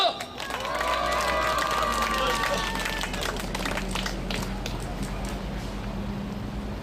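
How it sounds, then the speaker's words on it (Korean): A crowd at an outdoor street rally in front of an apartment complex breaks into sustained clapping and cheering, dense and fairly loud throughout, with a voice briefly heard at the start. "전창용 동지 박수 한번 주세요."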